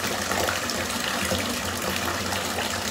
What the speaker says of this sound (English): the water keeps going so it doesn't run out